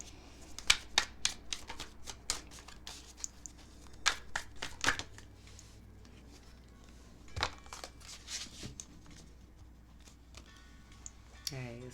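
Tarot cards shuffled by hand: repeated quick riffling flutters and papery slaps in irregular bursts, close and fairly quiet, with gaps between.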